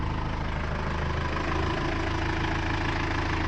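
A sailboat's small engine runs steadily at idle, a continuous low mechanical drone with a faint rhythmic knock throughout, close and fairly loud with no voices.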